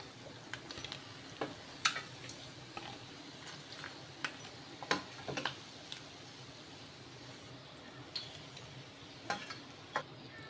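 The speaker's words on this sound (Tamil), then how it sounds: "மாற்றி போட்டு ஒரு நிமிஷம் பொரிய விடலாம்" Egg frying in a pan, a quiet continuous sizzle broken by scattered sharp pops and crackles throughout, close and faint, with no talking.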